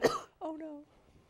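A single sharp, forceful cough, followed by a brief voiced groan, then quiet.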